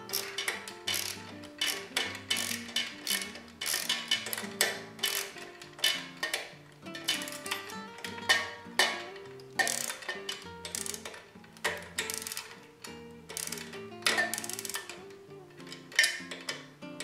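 Tightening a nut with a Phillips screwdriver on a Columba LW20S folding bike, steady clicking ratchet-like ticks in an irregular rhythm, close and fairly quiet, no talking.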